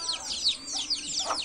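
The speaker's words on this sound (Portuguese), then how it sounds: "Olha os barulhinhos dos pintinhos." Baby chicks beside a pond being renovated peep in a quick run of high, thin chirps, close and fairly loud, with a brief lower cluck near the end.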